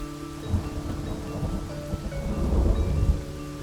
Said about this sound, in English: I love listening to thunder.